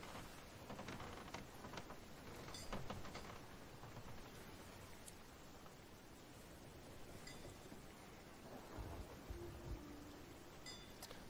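A thunderstorm at sea in the pirate game Sea of Thieves gives a steady, quiet roar of rain and wind with faint rumbles underneath. It runs continuously with no voices.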